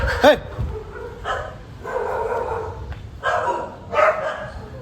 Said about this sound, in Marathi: नवीन नवीन कुत्रे आले जाम